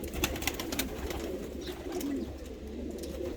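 Hungarian pigeons coo steadily in a loft, soft low throaty calls repeating close by with faint wing and shuffling noises behind.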